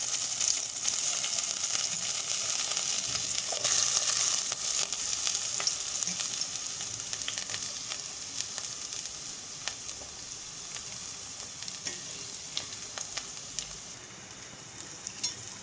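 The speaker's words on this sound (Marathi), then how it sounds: "चला मंडळी, तेल घातला असं आहे मी इथून. हे बघ त्यात कांदो घालून घेऊ." Onions fry in oil in a pan with a dense, steady sizzle and crackle heard up close, easing slightly in loudness over time, with occasional spattering pops and no speech.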